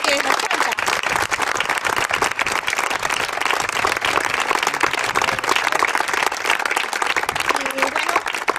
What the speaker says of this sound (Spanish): me gustaría que por favor le diésemos un aplauso enorme a Enrique